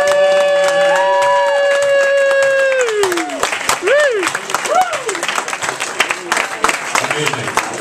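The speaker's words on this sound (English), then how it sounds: "Let's give them a round of applause" Crowd applause and cheering from a live bar audience at El Leñador in Saint Louis, starting under a held electronic tone that sweeps down, then continuing as steady clapping with scattered whoops, fairly near and loud.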